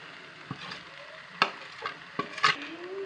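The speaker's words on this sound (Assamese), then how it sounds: "আৰু অলপ লৰাই দিম।" Cumin and coriander seeds are being stirred in a hot pan with ginger and garlic, giving a quiet sizzle broken by a few sharp scrapes and clinks of a spoon against the metal.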